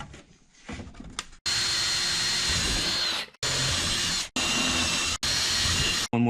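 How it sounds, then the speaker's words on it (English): Power drill boring holes to mount a 3D-printed NACA duct: a loud, close, high whining drill run in several bursts of one to two seconds each, separated by brief stops. "I'm going to drill whatever holes I can easy enough."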